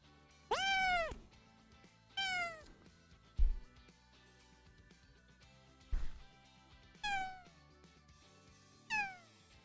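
A cat meows several times in short rising-falling calls, spaced a second or two apart, close and clear against a quiet room with a couple of low thumps.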